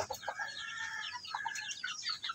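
Young Shamo Asil chicks, 21 days old, peep and chirp in quick, high, irregular bursts just after feeding, with other chickens nearby, fairly faint and with no voices.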